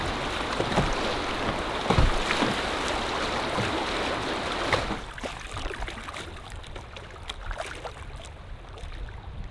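A canoe is paddled along the Petawawa River, with a steady rush of moving water and wind, occasional close splashes and knocks from the paddle, and the flow easing to a softer wash partway through.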